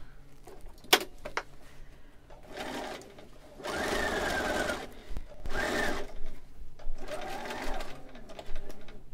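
A sewing machine bastes a 1-inch seam on a monk robe in short bursts of rapid mechanical stitching, separated by pauses with small clicks and handling noises, close and clear.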